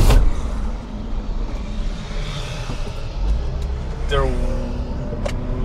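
A Mazda RX-8 accelerates on a race track, its engine droning steadily with a rising whine through the gears, heard from inside the car, and a brief word spoken at the start.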